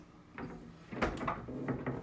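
Empty wooden drawers in a hotel room at Disney's Wilderness Lodge sliding open and shut, a few soft knocks and thuds close by, with a louder bump in the middle and no talking.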